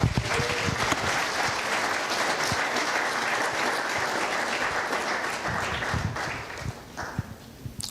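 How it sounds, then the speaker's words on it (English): Crowd at a film festival awards ceremony applauds a best lead actor or actress winner, steady dense clapping filling the room for several seconds, with a few louder individual claps. "A round of applause, please."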